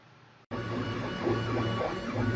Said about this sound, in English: you can see how fast the printer is moving